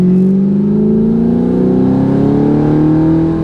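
A car fitted with a $7000 titanium exhaust pulls hard in third gear from 30 mph in comfort mode, a loud, close, steadily rising engine drone that climbs evenly throughout.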